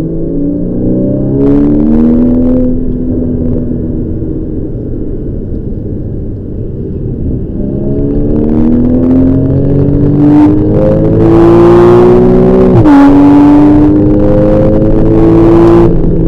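Porsche 911 Turbo S and Cayman GTS driven on the Ascari circuit: loud, continuous engine drone rising and falling through gear changes and accelerations, heard close from inside a following car, no talk.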